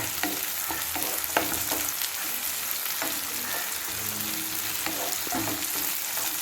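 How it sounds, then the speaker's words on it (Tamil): Onions and tomatoes sautéing in a pan for a Sankara fish curry, a constant close sizzle broken by repeated sharp scrapes and taps of a ladle stirring at an uneven pace. "வெங்காயம் தக்காளி நல்லா வதக்கியாச்சு"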